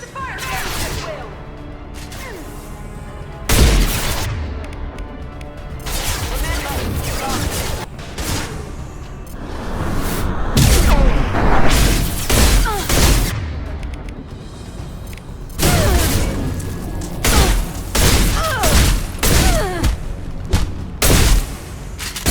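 A firefight in Mass Effect 2 against Eclipse mercenaries, with loud bursts of gunfire and booming impacts coming in irregular volleys. Voices talk over the combat.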